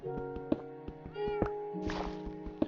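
Cat meowing in a Minecraft game, several short mews over a layered background of game music and thunks, fairly close and moderate in volume.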